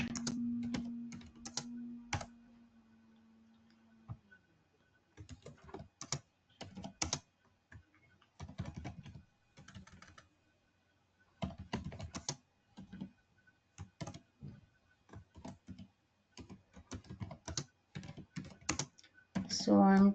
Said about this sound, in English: So I'm typing the procedure here.